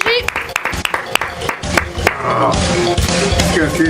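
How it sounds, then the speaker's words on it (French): Scattered clapping from a small audience, brief and uneven, with people talking over and after it. "Je voudrais qu'on applaudisse tout de suite le boss, s'il vous plaît, Gilbert."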